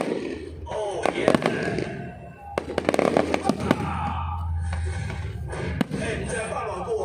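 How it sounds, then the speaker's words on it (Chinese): A high-altitude fireworks show at a celebration: loud sharp bursts and crackling pops fire in irregular clusters against a constant crowd murmur, with voices talking and cheering throughout. "今天应该国家级的烟火秀还要来得精彩"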